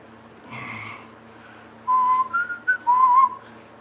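Someone whistles a short familiar tune, the Jeopardy theme, nearby, a few clear sliding notes in a quick rhythm after a faint murmur and quiet room noise.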